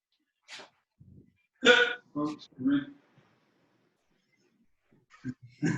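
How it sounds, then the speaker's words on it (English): Short throaty hiccups from a person during an online martial arts class, several separate jerky vocal bursts spread across a quiet stretch, close and fairly loud, with brief voice sounds around them. "Are you hiccuping?"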